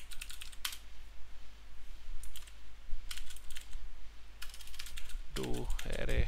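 Quick bursts of typing on a computer keyboard while C++ code is written for an Unreal Engine 5.3 project, clustered in short runs of clicking keys with pauses between, close and clear over a faint steady hum.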